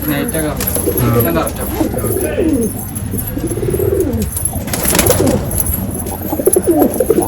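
Pigeons of a Maina-type breed coo in a loft, a steady murmuring chorus close by, with people talking over them throughout.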